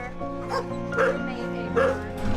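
Dogs kept in a backyard bark, yip and whimper in a steady chorus of short repeated calls, close and loud, with a voice talking faintly among them.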